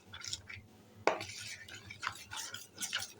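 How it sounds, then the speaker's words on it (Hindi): A spoon stirring and scraping through potato batter in a bowl, soft wet swishes and a sharp clink against the side, close and fairly quiet, with no talk. "अच्छे से आपने घोल तैयार करना है, कोई भी गुठली, कोई भी लम्स नहीं रहना चाहिए"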